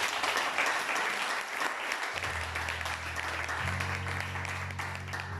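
Church congregation claps together in applause, a dense, even patter across the room with a sustained sung or organ-like tone entering partway through.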